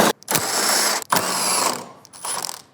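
A ratchet backs out the 10mm screws holding a headlight on a 2020-or-later Chevrolet Silverado 2500, giving three close bursts of rapid clicking separated by short pauses, with no talking.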